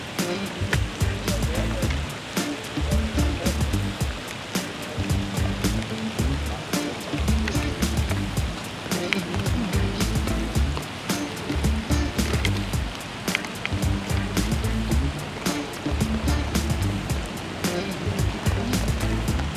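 Steady rain hisses and patters on open water during a sailing regatta on a lake, a dense continuous wash with a few sharper splashes and knocks throughout.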